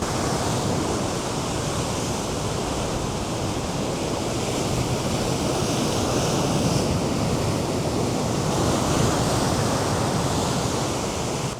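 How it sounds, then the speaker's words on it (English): Wild open ocean surf mixed with gusting wind, a dense, constant roar close to the microphone with no voices. "It's a wild, wild ocean out there."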